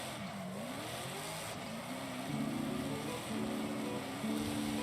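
Car engine in Forza Horizon 5 cruising in sixth or seventh gear, a steady droning hum that rises slightly in pitch, fairly quiet and alone.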